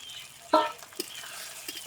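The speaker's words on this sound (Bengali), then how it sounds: "এখন মশলাটাকে ভালো করে কষিয়ে নেব" Village-style Bengali chicken kosha masala with chopped tomato and ground spices being stirred and fried in a pan: a sharp scrape and sizzle, then a couple of lighter clinks, close and brief with no talk.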